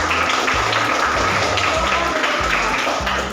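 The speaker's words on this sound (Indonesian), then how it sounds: "tepuk tangan buat kita semua" A classroom bursts into group applause, a dense run of overlapping claps and taps lasting a few seconds, loud and close in a busy room.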